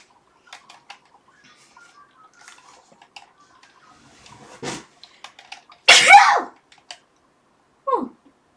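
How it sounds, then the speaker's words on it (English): A single big human sneeze, loud and close, with a sharp breathy burst rising in pitch, then a short voiced tail a couple of seconds later, over a quiet room with faint clicks. "That was a very big sneeze."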